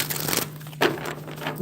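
Quick papery riffles and flicks as a deck of cards is shuffled, a few short bursts close up with no talking.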